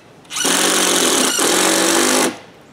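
A power driver sinks a number 10 by 2.5 inch stainless steel screw into a wooden pergola post on a deck, one loud, close, continuous whirring burst of about two seconds with a slight dip midway.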